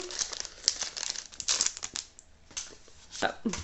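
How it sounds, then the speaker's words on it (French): A crinkly foil Pokémon booster pack wrapper from the Astral Radiance set is torn and handled up close, giving irregular bursts of crisp crackling and ripping over several seconds. "Ouverture du deuxième booster. Bon, je les ouvre avant comme tout à l'heure."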